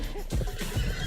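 A horse whinnies in a short, close, rough burst over a faint hum, with no talk.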